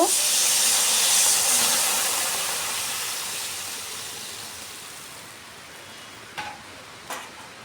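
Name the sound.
water poured into pan of fried potatoes and pointed gourd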